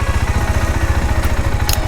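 KTM 390 Duke single-cylinder motorcycle engine idling after an oil change with Motul 10W50, a steady low putter running evenly and close throughout, with no voices.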